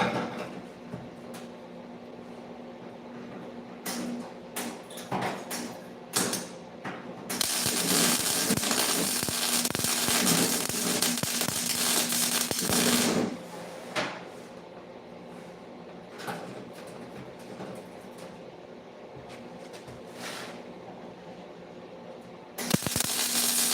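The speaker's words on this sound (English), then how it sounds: "I'm just gonna keep spot welding that down." A custom hood for a Lamborghini Terzo Millennio-style supercar is spot welded, with short crackling welding bursts between brief pauses and one long sustained sizzling stretch in the middle, close and fairly loud.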